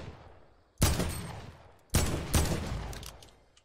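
Gunfire in a shooter video game: loud broadband blasts, one near 0.8 s, then two more close together around 1.9 and 2.3 s, each trailing off with a decaying rumble.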